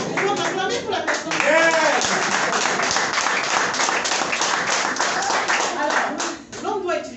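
Audience clapping and cheering at a product demonstration of SuperbKlean sanitary pads and panty liners, a dense, steady burst of applause lasting throughout, with voices calling out over it.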